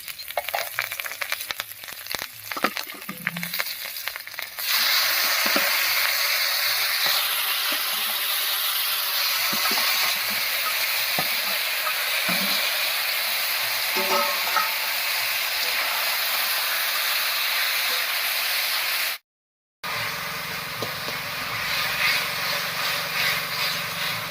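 Green chillies sizzling in hot oil with a black cumin and dried red chilli tempering, a steady close hiss and crackle with a brief silent gap near the end.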